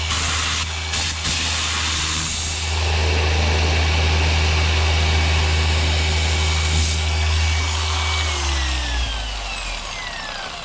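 A polisher runs to clean its pad while detailing an E85 BMW Z4 M, giving a loud, steady motor whine and hum that starts abruptly, holds, then winds down in pitch near the end.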